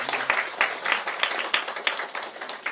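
A crowd at an indoor training session applauding steadily, dense overlapping claps at moderate volume for a few seconds with no voices over them.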